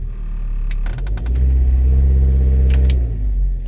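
2006 Volkswagen Passat 2.0T turbo engine, with a boost sensor fault, revving hard while brake torquing in gear. A close, loud rising drone holds steady, then drops back toward idle.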